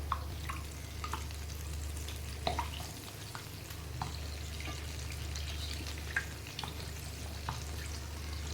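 Bread pakoras, two at a time, fry in oil in a small kadai with a steady close sizzle and scattered crackles and pops. A low hum sits underneath, and there is no talk.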